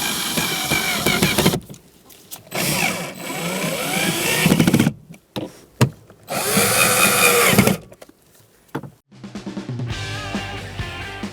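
Power drill driving the lower glove box screws in a 2010-2013 Kia Soul, several short whirring bursts separated by pauses, close and fairly loud.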